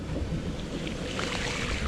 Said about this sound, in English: since I just drove through a big ass fucking puddle